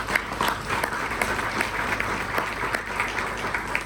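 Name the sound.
audience applause welcoming speakers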